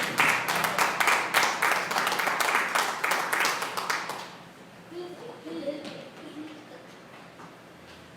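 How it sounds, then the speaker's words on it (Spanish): A church congregation applauds together for about four seconds, a dense run of rhythmic clapping that then thins out into scattered claps and quiet room noise. "Denle un aplauso al Señor."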